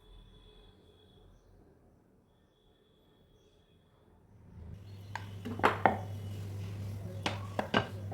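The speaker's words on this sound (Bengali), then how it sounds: "এবার সামান্য আটা দিয়েই আমি বেলছি, দেখো।" A rolling pin rolls out atta flour dough for khaja. After a quiet start, soft rumbling strokes build, with a few sharp knocks of the pin on the board.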